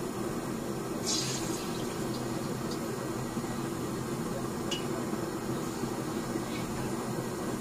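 Water splashing and running as hands are wetted in a kitchen before shaping palm fritters, a steady faint wash of water with a few brief sharper splashes.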